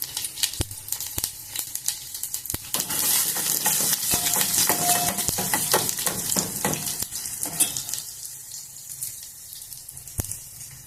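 Garlic and mustard seeds sizzle steadily in hot oil, a dense close crackle with occasional sharp pops and stirring clinks that continue throughout.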